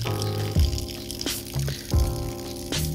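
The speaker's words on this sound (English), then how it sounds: "I'm hoping that's just water that was in the block" Water drains and splashes out of a Chevy 350 engine block on a stand as it is turned over, coming in a few short bursts of trickling, sizzling liquid close by, with no talking.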